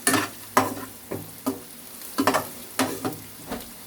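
Spice powder being stirred into sizzling fried rice in a hot pan: a steady frying hiss broken by repeated rhythmic scraping strokes, close and fairly loud, with no talking.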